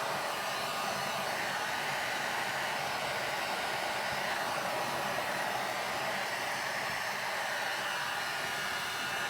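Steady, loud blowing roar of a hair dryer drying a chalk-painted t-shirt, constant and close for the whole stretch with no breaks.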